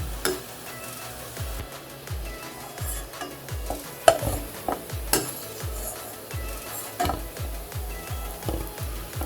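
MTR ready-made gulab jamun fry in oil over a low flame. A spoon scrapes the pan in steady, rhythmic strokes over a gentle, continuous sizzle.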